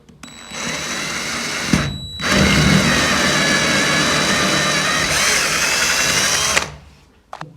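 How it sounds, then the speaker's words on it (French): Power drill boring through plasterboard to pass electrical conduit, two long loud whirring runs separated by a brief pause, ending with a short clatter. "Je vais venir percer avec ça pour passer ma gaine."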